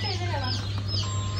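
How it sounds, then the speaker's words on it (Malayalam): Native Thalassery brooding hens cluck close by, a dense overlapping chorus over a constant low hum, with no clear voices. "30 കോഴി, 60 കോഴി, 90 കോഴി എന്നൊക്കെ അടയിരിക്കണ നാടൻ കോഴി"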